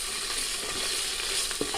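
Spice paste for chicken curry frying in a pan, a short steady hiss of sizzling with a faint stir and a small knock near the end.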